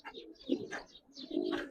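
Giribaz pigeons coo nearby in a loft, soft repeated throaty rolling calls in short bursts over a quiet background.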